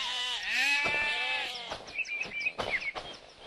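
A sheep gives a drawn-out, wavering bleat up close, followed by scattered chirps and light rustling from the farmyard.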